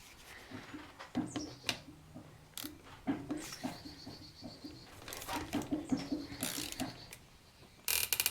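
A ratcheting torque wrench tightens engine bolts during a top-end rebuild of a Massimo MSU 700. Quiet bursts of quick ratchet clicks come close up, pause, then repeat, and a brief sharper clatter lands at the end.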